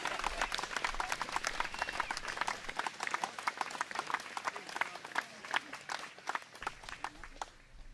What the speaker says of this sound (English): I'm going to give that a clap.